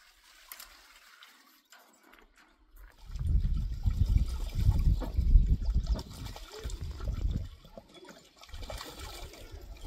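Water from a hose rushes and splashes into a duck pond at a homestead coop, starting after a quiet few seconds and then running steadily with a low, gurgling roar.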